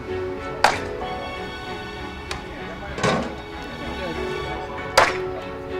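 Axe blows chopping firewood in a forest, three or four sharp separate thwacks spaced a second or two apart over a steady outdoor background, with people talking between strikes.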